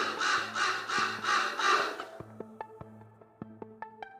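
Several harsh, raspy bird alarm calls repeat in quick succession on a trail in Fuerteventura, then give way to a steady pattern of short tonal beeps or chirps.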